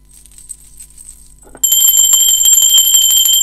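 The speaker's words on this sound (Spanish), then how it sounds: "Va campana." A bell starts ringing continuously, loud and close, a rapid metallic trill after a faint jingle and rustle.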